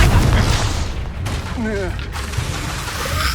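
A fiery Confringo blast spell from a Hogwarts Legacy duel booms loudly in a rapid volley of explosive bursts, layered with crackling battle effects and a short pitched magical whine, while a voice speaks under the action.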